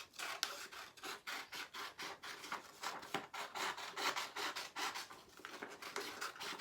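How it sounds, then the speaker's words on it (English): Scissors cut out a paper circle in quick, soft rasping snips, a continuous close scratchy rustle with faint repeated strokes and no talking. "I'm just going to cut it out."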